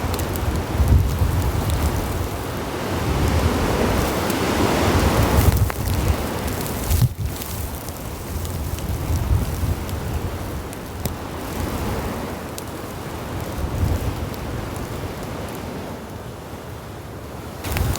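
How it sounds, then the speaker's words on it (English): Strong wind roars through a winter campsite during a blizzard, a loud, continuous rushing wash with gusts swelling and easing, carrying ice across the site, with no talking. "The winds are really picking up now."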